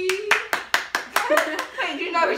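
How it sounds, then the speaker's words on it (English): A small group claps in a quick, loose rhythm for a name being announced at a mock courthouse comedy show, about seven sharp near claps with voices talking and laughing over and after them. "You got to clap for everybody's name."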